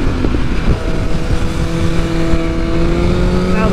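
Tuned 2022 BMW S1000R motorcycle engine accelerating hard, a loud continuous high-revving drone with rising harmonic tones and steady wind rush throughout.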